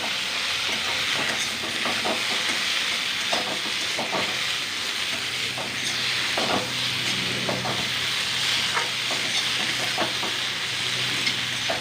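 Okra frying in a pan gives a steady sizzle, with repeated scraping stirs of a spatula sounding at intervals over a constant hiss, close and moderately loud.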